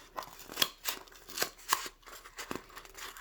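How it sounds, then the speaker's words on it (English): Large scissors cutting a circle out of paper, a series of crisp snips repeating at an irregular pace, close and fairly quiet with no talking. "I have bigger scissors."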